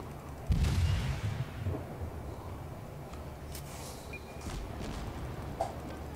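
Naval gunfire in the World of Warships video game: one heavy booming salvo with a long rumbling tail, followed by fainter scattered thuds and distant impacts, loud and close with no talk.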